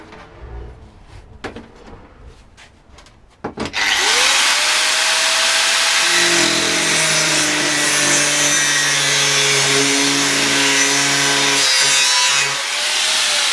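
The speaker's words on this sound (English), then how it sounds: "Have to grind all them bits and pieces off" Angle grinder wheel biting into a steel L-shaped bracket for an Iveco Daily bull bar, grinding off leftover bits; a few knocks first, then a loud, steady, close scream with a shifting whine that holds to the end.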